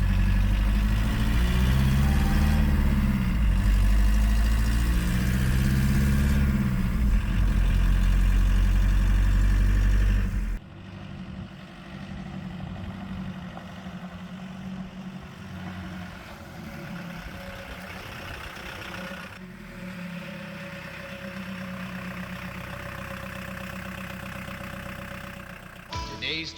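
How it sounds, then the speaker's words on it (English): A diesel engine swapped into a Chevy S10 pickup idles with a deep, steady low rumble, loud and close for about ten seconds before dropping to a quieter, rougher idle. "Diesel engines are music to my ears"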